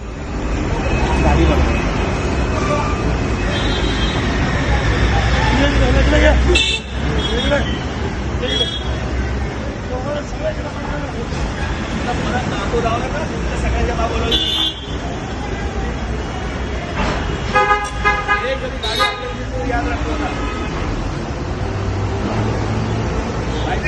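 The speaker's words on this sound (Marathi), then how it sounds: "ठाकरे शैलीत दम देऊन तासन तास अडकलेलं ट्रॅफिक काही क्षणात सोडवला" A traffic jam at a toll plaza: a steady roar of idling and moving cars and buses, with repeated horn toots scattered throughout and a crowd babble of voices mixed in.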